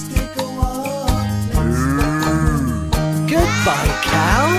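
A cow moos in long, drawn-out calls with rising and falling pitch, loud and close, set against a bouncy children's farm-animal song.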